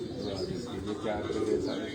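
Teddy pigeons coo in low, murmuring calls close by on a rooftop loft, a brief stretch heard under someone speaking.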